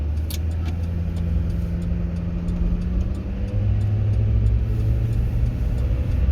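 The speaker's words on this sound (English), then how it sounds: "I'm just gonna wait for a car to go by." A car passes on the main street of Fritch, Texas, a steady engine rumble that swells and holds close by, with no talking.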